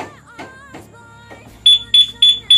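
Z200 motorcycle alarm system sounding off: four loud, high, evenly spaced electronic beeps near the end, each rising into the one after it, following a few softer tones and faint speech.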